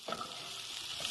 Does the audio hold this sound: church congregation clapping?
no